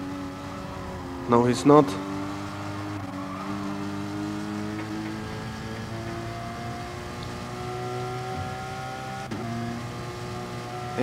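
Engine drone of a GT-R race car at Brands Hatch in GT Sport, a steady multi-tone whine running throughout with a brief sharper burst early on, under a commentator's voice.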